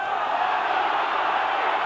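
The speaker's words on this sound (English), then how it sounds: "And the crowd are getting frustrated" A large crowd at a Huddersfield versus Catalans rugby league match in 2008 lets out a sustained, steady roar of shouts and jeers, filling the stadium evenly for the whole moment.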